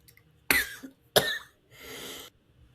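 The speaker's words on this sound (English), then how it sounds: "might have to cut out the coughing." A person coughs twice in hard, close bursts about half a second apart, then lets out a long breathy exhale in an otherwise quiet room.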